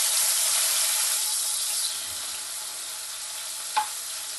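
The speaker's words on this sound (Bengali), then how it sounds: "আগে চিংড়ি মাছটা ভেজে তুলে নেব" Prawns fry in hot oil in a pan, giving a bright, steady sizzle up close that eases slightly, with one quick clink of a utensil near the end.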